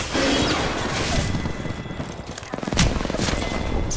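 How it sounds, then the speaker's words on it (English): Combat sounds in a battle royale video game: dense rumbling explosion noise and crackling volleys of gunfire fill the whole stretch, with a sharper blast and a rapid burst of shots near the end, loud and chaotic. "Look out, grenade."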